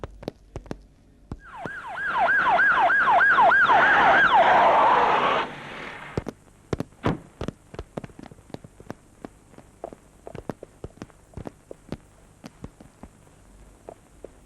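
A wailing ambulance siren in a Bollywood film, rising and falling in quick repeated sweeps for about four seconds, then cutting out and leaving a run of sharp footsteps and clatter.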